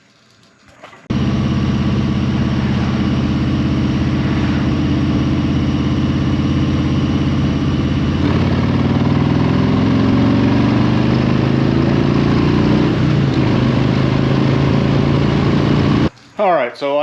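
A Harley-Davidson M8 motorcycle engine starts and runs steadily on a test ride, a loud, continuous low rumble with a shift in pitch partway through before cutting off.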